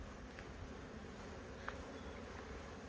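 Honeybees buzz steadily around a nuc hive in an apiary in Michigan, a low continuous hum close by with no voices.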